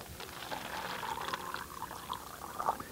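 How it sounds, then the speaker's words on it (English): Water is poured into a styrofoam cup during a children's magic show, a soft, close trickle and splash that keeps going for a few seconds with no talking over it. "I'm going to pour the water into the cup."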